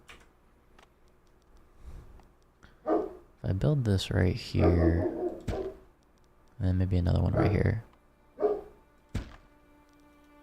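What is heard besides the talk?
dog barking excitedly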